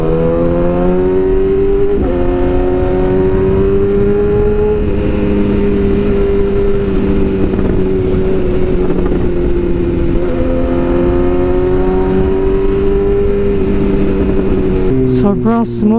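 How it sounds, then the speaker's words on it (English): A BMW S1000R motorcycle engine hums steadily while riding in city traffic, a smooth, loud, close drone whose pitch shifts gently as the throttle changes, with a brief rev near the end. "Sobrang smooth ng engine."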